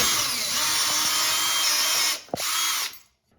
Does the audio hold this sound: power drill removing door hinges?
yes